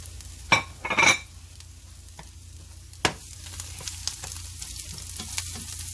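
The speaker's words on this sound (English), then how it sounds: "I made room in my pan for the garlic." Garlic frying in a pan for cauliflower rice with onions, with a low steady sizzle beneath a few sharp clinks and stirring clatters near the start and a louder knock around the middle.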